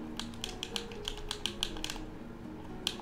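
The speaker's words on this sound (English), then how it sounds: "Listen, I hate typing these in." Locker codes are typed on a computer keyboard in quick, crisp keystrokes, close and clear, with a short pause before a final tap.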